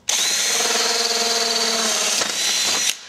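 Power drill cutting through a 1/4-inch plywood case: a sharp start, a steady close-up whine under load, a short break, then a second burst that stops abruptly.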